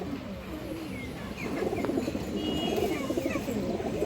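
An old-breed black pigeon coos steadily close by, soft throaty burbling that swells louder after a moment, with faint chirps of other birds behind.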